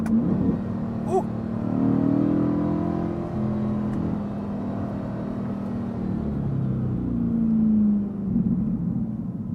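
A Chevrolet C8 Corvette with the LT2 engine revs while driving, its engine note rising and falling in several strong pulls and shifts over steady road rumble, close and loud with no talk.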